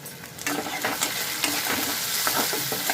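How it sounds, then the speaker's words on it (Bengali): Chopped tomato dropped into onions already frying in mustard oil, giving a loud, close, continuous sizzle with repeated stirring and scraping strokes in the pan. "সব কিছু ভাজা ভাজা হয়ে গেছে এর মধ্যে দিয়ে দিচ্ছি আমি টমেটো কুচি"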